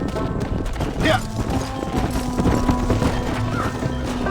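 A horse in the Red Dead Redemption western game clops and snorts with a brief whinny, over ambient outdoor game sound with voices talking.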